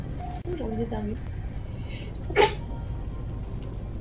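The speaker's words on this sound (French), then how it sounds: "Oh, j'ai envie d'éternuer." A single short, sharp sneeze bursts out loud and close mid-clip, set apart from the quieter speech and background hum around it.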